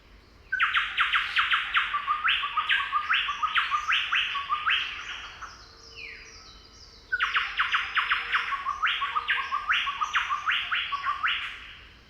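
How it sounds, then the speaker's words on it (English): A Chowchilla, a forest floor bird of eastern Australia, sings two bursts of rapid, repeated chattering notes, loud and close, separated by a short pause with faint background hiss. "The Chowchilla is another forest floor bird. I'm going to play the song for you."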